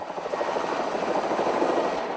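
Helicopter flying over São Paulo, a steady loud rotor thrum with fast chopping pulses that holds at an even level through the whole short stretch, with no voices.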